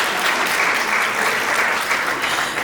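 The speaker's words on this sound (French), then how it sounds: "Est-ce que nous pouvons applaudir Madame Curvin Goulambe?" Steady applause from an audience at a UNESCO conference on African women in STEM, a dense even patter of many hands clapping close by throughout, with no voices over it.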